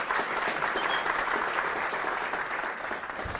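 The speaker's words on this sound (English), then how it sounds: "And I'd ask you now to give them both a warm welcome and a round of applause as Una McGurk joins me on stage." An audience gives a warm, continuous round of applause as speakers join the stage, steady dense clapping filling the room without pause.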